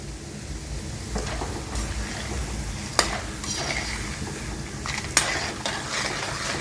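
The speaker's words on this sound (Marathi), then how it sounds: "तेलामध्ये चांगले तळून घ्यायचे जर तेल चांगलं तापलं नाही तर आतपर्यंत हिंग व्यवस्थित तळला जात नाही कडक राहतो" Lumps of asafoetida fry in hot oil in a village kitchen, giving a steady close sizzle with a few sharp clinks and scrapes of a utensil stirring the pan.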